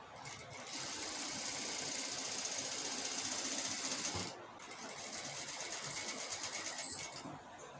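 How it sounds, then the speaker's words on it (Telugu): A sewing machine stitches a straight seam on the neckline of a star-neck cross-cut blouse: a steady close whirring that runs for about four seconds, then continues more softly and unevenly. "ఇప్పుడు స్ట్రైట్గా కుట్టు వేసుకుంటే అయిపోతుంది"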